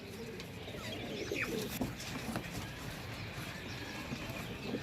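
Pigeons, a batch of birds offered for sale, coo repeatedly in a low murmuring chorus over steady outdoor background noise, with scattered soft calls throughout.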